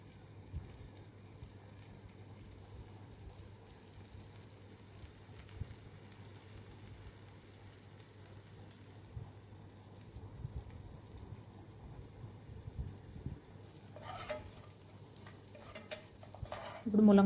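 Ingredients for an egg and dry fish dish fry in a pan with a steady low sizzle, while a utensil scrapes and stirs now and then, and louder clatter comes near the end.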